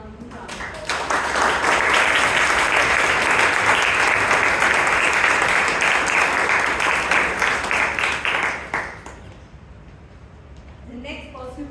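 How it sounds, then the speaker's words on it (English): Audience at a Toastmasters club meeting in Bangalore breaks into sustained, loud applause lasting about eight seconds before tapering off, with a voice starting to speak at the end. "Let's give a Sergeant Amrith round of applause."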